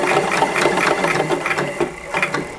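Sewing machine stitching forward through a lined peplum wool jacket, a steady close-up run of rapid needle clatter with brief pauses as the seam is backstitched.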